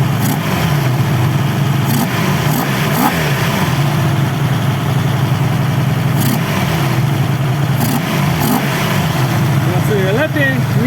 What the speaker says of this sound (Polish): Nie no, teraz to dopiero ten motocykl pracuje jak powinien.